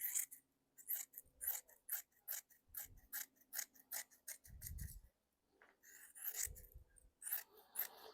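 Repeated crisp snips of scissors cutting fiberglass cloth into strips, a steady run of sharp clicks and rasps close up, with a few low thumps between, no talking.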